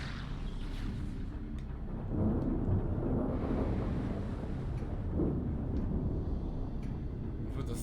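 Rolling thunder in the video game Metroid Prime 3: Corruption, a loud, continuous low rumble that swells after the first couple of seconds and holds steady throughout, with game ambience around it.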